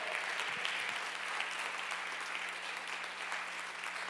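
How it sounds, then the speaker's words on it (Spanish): A church congregation claps during a Spanish-language sermon, a steady wash of applause that sounds somewhat distant and low in level, with no break for the whole stretch. "Dale un fuerte aplauso a nuestro Dios en su casa"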